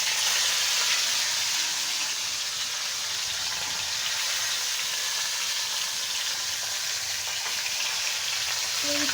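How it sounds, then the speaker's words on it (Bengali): Fish fry in hot oil in a pan, a dense, constant crackling hiss that stays loud and steady throughout with no voices. "এখন আমি মাছগুলো দিয়ে দিব।"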